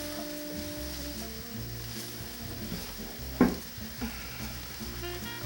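Carrots and Savoy cabbage fry in a pot for Tuscan peasant soup, a steady close sizzle with a brief clink and stirring knock partway through.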